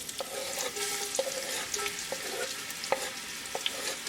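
Onion frying in olive oil with cumin: a continuous close sizzle runs throughout, punctuated by several clicking knocks of a spoon against the pan.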